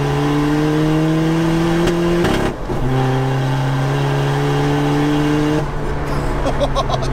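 A 600bhp NOS-powered SEAT Ibiza 1.9 TDI accelerates hard in third gear, its loud engine note climbing steadily, dipping briefly at a shift, then rising again close and dominant.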